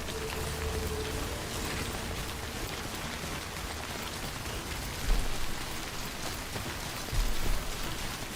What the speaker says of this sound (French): Ah non, c'est de la pluie.